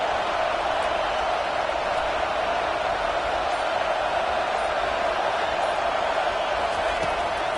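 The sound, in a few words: home crowd cheering at Auburn vs LSU football game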